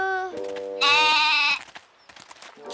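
A cartoon goat gives a loud, wavering bleat near the microphone, followed by a few softer scattered noises and a short second call at the end.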